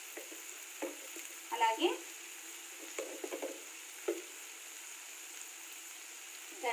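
Egg curry masala being stirred in a pan, soft intermittent scraping and gentle sizzling strokes, quiet and close, with a brief spoken word.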